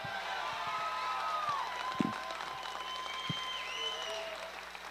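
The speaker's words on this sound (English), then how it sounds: "Let's give her a big round of applause, ladies and gentlemen." An audience applauds the winner of a regional country music talent contest, with steady moderate clapping and a few scattered whoops and sharp claps, somewhat distant.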